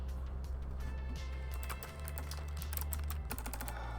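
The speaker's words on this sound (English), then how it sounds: "I'm typing terrible today" Rapid, irregular keystrokes clatter on a computer keyboard while someone writes Unreal Engine 5 C++ code. The clicks are close and come in bursts over a low, steady electrical hum.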